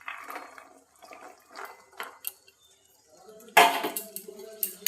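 Kabuli chickpeas tipped into a cooking pot of softened tomatoes for a banana-flower ghonto, giving a sudden wet clatter and rattle after a few softer scrapes and clinks.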